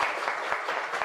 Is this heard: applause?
yes